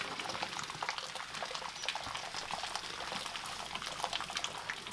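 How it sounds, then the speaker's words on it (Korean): Seawater boils over a wood fire in a traditional salt-making house in Kagoshima, Japan, a continuous close bubbling and crackling hiss with dense irregular pops and no talk. "이 집에서는 바닷물을 장작불에 끓이는 전통 방식으로 소금을 만들고 있다"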